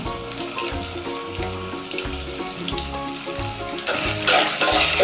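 Chopped shallots sizzle loudly in oil with chicken and coconut as they are stirred, a dense hiss with scraping stirs, over faint tonal music, growing louder near the end.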